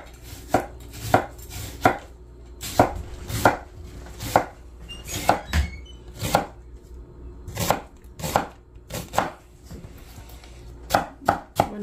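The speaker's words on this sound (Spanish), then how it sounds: "Voy a empezar con las cebollas." Knife chopping onions on a cutting board in a home kitchen, a steady run of sharp, close taps in uneven bursts, some quick and clustered, with short pauses between groups.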